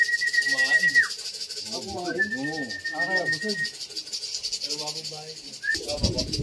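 Racing pigeons at a loft, cooing in soft repeated warbling phrases close by, with a steady high tone running through and a sudden rustle near the end.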